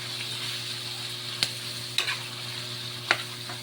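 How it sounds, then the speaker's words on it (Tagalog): Mung beans sauté in a hot pan with a steady soft sizzle, broken by a few sharp scrapes and clacks of a utensil stirring against the pan. "Gisa-gisa sa munggo."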